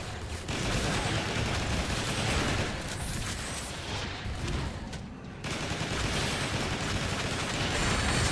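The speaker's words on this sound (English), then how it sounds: "Missiles!" Missiles and gunfire blaze in the Transformers: War for Cybertron video game, a loud, continuous barrage of rapid shots and blasts that fills the whole stretch, with a brief dip midway before the volley resumes.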